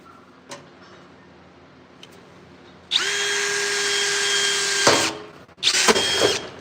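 After a few faint ticks, a power drill with a Diablo bit spins up loudly and whines steadily, stops briefly, then restarts as the bit cuts into the metal firewall of a 1974–1984 Chevrolet K5.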